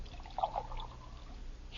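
Hot water pours briefly into a cup to make instant Postum, a soft trickling splash heard alone against faint background hiss.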